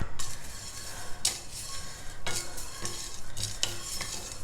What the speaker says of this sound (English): To this I am also adding a few curry leaves.